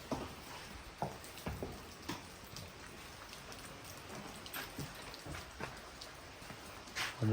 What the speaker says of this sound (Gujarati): અત્યારે વરસાદ પણ ચાલુ થઈ ગયો.